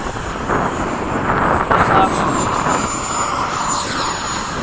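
Freewing 90mm F-22 RC jets flying in formation, a steady whooshing turbine-fan drone with wind buffeting, one passing higher whine, while people talk nearby throughout.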